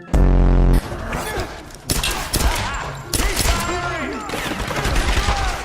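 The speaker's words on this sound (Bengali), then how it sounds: "এত এত গুলি মারে এত গুলি কেউ মারে" Bursts of rapid gunfire and explosive shots in quick succession, loud and close, with game-like effects between volleys in Tomb Raider (2013).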